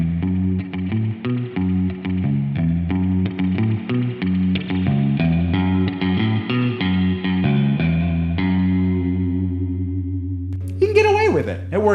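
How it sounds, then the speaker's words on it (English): A low, distorted electric guitar run through a Whammy pedal plays a steady run of chugging notes, pitched down into a deep baritone range, ending on a held note before a brief voice. "I used this guitar and the whammy to play the baritone part"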